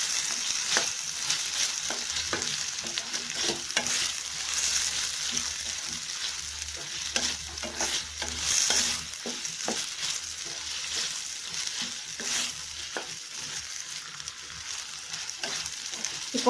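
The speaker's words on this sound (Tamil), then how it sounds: "அதையும் இதோட சேர்த்து நல்லா கலந்து விடலாம்." Vegetables and cashews for a vegetable vermicelli biryani sizzle steadily in a hot pan, with intermittent scraping stir strokes over the continuous frying hiss and no talking.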